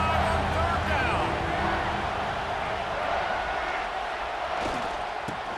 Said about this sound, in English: Hang on, Swoopy, the Buckeye crowd alive on 3rd down.